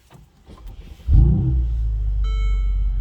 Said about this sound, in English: I'm gonna start the engine with the top back so you can hear this bad boy